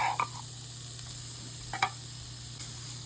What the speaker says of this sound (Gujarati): ઓઇલ થોડું ગરમ થઈ જાય આપણે નાખશું આદુ મરચાં અને લસણની પેસ્ટ